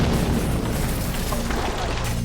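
A remote-detonated bomb going off, a loud, dense rumbling blast that fills the whole short stretch and stays heavy and sustained without fading.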